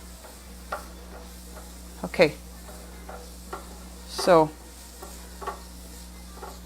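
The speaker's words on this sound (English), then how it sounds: "I'm hearing the sizzle now, y'all." Homemade tortillas cooking on a hot surface, a faint steady sizzle under a few brief sharp clatters of stirring or handling, with a short spoken word.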